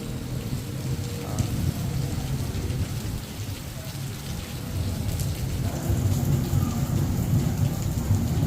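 Heavy rain pours during an outdoor fun run in Cebu, a constant loud hiss with deep thunder rumbling underneath, swelling again toward the end, with no voices over it.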